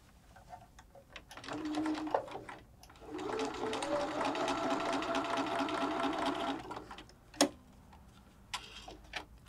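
A sewing machine stitches across a folded fabric strip, sewn lengthwise with right sides together, in a rapid rhythmic whirring burst of several seconds that starts up, runs steadily, then stops, with a few sharp clicks and handling noises after.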